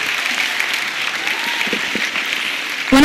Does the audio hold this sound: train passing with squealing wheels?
no